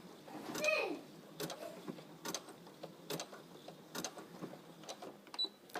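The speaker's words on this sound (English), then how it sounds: "And then I'm going to back stitch." A sewing machine back-stitching through a hooded towel: quiet, evenly spaced mechanical clicks and whirs repeating about once per second after a brief busier burst at the start.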